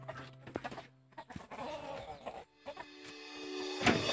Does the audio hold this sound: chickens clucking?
yes